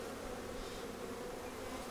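Honey bees hum steadily at an open hive with exposed larvae and eggs, a dense, continuous buzzing swarm that sounds close, with no voices over it.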